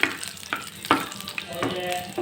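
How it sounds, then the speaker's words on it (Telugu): Cumin seeds fry in a pan for oats pongal, a soft crackling sizzle broken by a few clattering stirs of a utensil, close and fairly quiet. "జీలకప్పు ఇలా వేసి కొద్దిగా వేయించుకోవాలండి"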